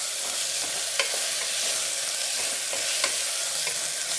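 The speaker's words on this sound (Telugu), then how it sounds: "టమాటాని పచ్చిమిరపకాయని వేసేద్దాము చూడండి వేపుకుందాం" Chopped tomatoes and green chilies sizzle steadily in a hot pan, a constant close frying hiss broken by occasional light clicks of a stirring spoon.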